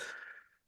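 A single short sneeze bursts out, fairly faint, and fades away within well under a second.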